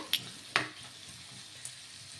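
Curry leaves and turmeric fry in a pan while being stirred, a soft steady sizzle broken by a couple of sharp, brief scrapes of the spoon against the pan.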